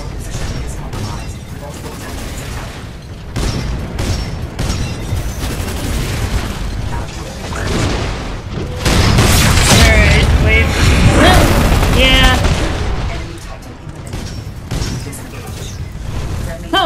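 Heavy booms and crashes of mortar explosions rumble through a Titanfall 2 firefight, dense and loud with gunfire and mechanical clatter, swelling to a dense barrage midway before easing off.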